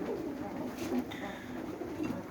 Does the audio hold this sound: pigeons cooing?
yes